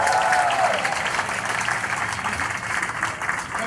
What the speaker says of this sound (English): Let's hear it for the race committee.